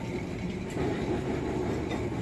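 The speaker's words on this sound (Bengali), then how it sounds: "আসছে ওয়েলিংটন ক্রসিং এখান থেকেই আমাদের ট্রামটা ডান দিকে ঘুরে যাবে" A Kolkata tram rolls along and turns right at Wellington crossing toward Rafi Ahmed Kidwai Road, a steady, close rolling rumble with faint clatter from the rails.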